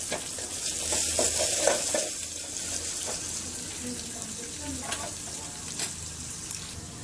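Finely chopped onions and mustard seeds frying in oil, a bright continuous sizzle with occasional stirring scrapes, close, with a voice talking faintly underneath.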